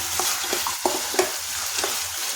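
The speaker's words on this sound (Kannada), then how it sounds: "ಸ್ವಲ್ಪ ಫ್ರೈ ಆಗಬೇಕು ಎಣ್ಣೆಯಲ್ಲಿ" Poha mixture frying in oil in a pan while being stirred, a continuous close sizzle with soft scraping strokes from the spoon, and no voices.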